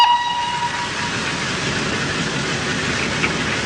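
Train pulled away to be sent into a staged crash, with a brief horn note at the start fading into a steady broadband rumble of wheels and wagons rolling along the track.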